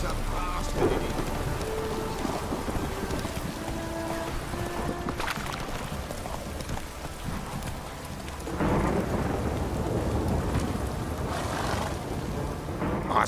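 A heavy downpour in The Witcher 3, with continuous rain hiss and rolling thunder that swells louder partway through, with no one speaking.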